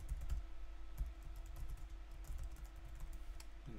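Quiet, close keystrokes on a computer keyboard, a short run of light irregular taps over a faint steady hum, with no talking.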